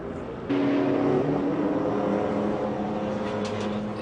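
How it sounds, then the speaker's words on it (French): A Nissan race car at the 1997 Le Mans 24 Hours, its radiator trouble just fixed, rejoins the track. Its engine roar starts abruptly and holds as a close, sustained drone. "L'une des Nissan qui rejoint la piste."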